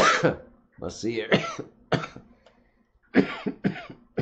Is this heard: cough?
yes